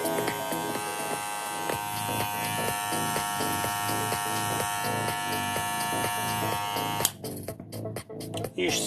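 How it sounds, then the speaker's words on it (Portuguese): Professional electric hair clipper in a barbershop, a steady close buzzing hum running continuously, then cutting in and out in short bursts near the end. "Isto sim é uma máquina profissional. É o barulho de um equipamento a funcionar nas devidas condições."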